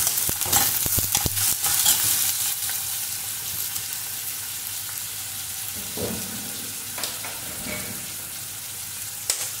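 Onions with salt fry in oil in a pan while being cooked down to dark brown for biryani, a steady sizzle throughout with sharp scraping stirs early on and a few more knocks of the spoon later.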